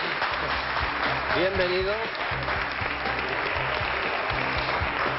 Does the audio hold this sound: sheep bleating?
no